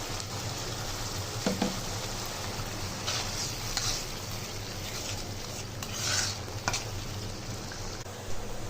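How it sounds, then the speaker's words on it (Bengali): Spice paste and mixed winter vegetables fry in a pan for a hotel-style Bengali vegetable bhaji, with a steady close sizzle and intermittent scraping stirs and no voices. "এখন মশলাটা ভালোভাবে কষিয়ে সবজি দিয়ে দিব।"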